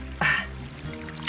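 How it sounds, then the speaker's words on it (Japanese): Spring water seeps from rock at a desert oasis in Mauritania, heard as a brief splashing burst followed by a soft, close, continuous trickle. "雨季に降るわずかな雨が伏流水となって山肌から染み出るのです"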